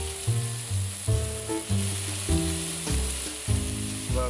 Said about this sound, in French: maintenant on va retourner nos crevettes